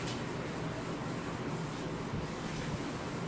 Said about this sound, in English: I'm gonna just use it dry and I'm gonna just kind of scrape